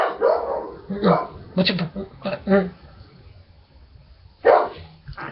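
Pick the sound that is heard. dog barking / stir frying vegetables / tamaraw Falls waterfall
dog barking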